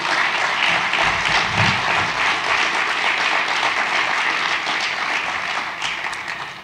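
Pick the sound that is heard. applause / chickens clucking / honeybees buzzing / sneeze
applause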